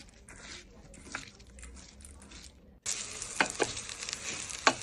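Rice sizzles as it fries lightly in ghee, starting soft and then growing into a louder, crackling sizzle with stirring scrapes of a spoon in the pan.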